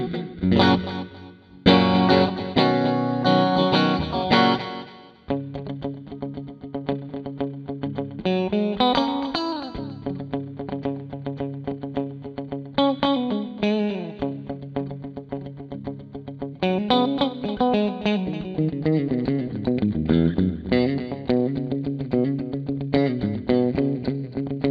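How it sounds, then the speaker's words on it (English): Electric guitar through a MOOER Black Truck multieffects pedal with reverb and delay engaged, loud continuous playing with bent, sliding notes whose echoes repeat and smear together for the whole stretch. "And this is the reverb plus the delay."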